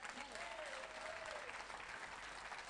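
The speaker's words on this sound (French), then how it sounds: "Est-ce que tu peux acclamer Jésus?" A church congregation applauds steadily throughout, with dense sustained clapping, cheering voices mixed in and a speaker's voice audible under the crowd.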